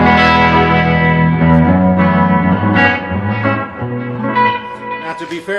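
Sustained notes and chords played through a Volante echo effect feeding two amps, with repeats and reverb-like tails trailing each phrase; loud and steady, with no talking.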